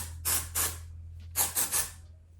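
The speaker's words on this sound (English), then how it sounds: "just spray a little bit on the side of where my my flip is" Amika Perk Up dry shampoo sprayed onto the side of the hair: five short, close hissing bursts, two then a pause then three, each under a second, in a quiet room with a faint low hum.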